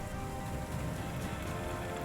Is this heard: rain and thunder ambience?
yes